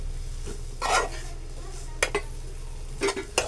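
Bharangi wild greens stirred in a pan, with a few soft scraping and clinking strokes of a spoon against the metal over a steady low background hum.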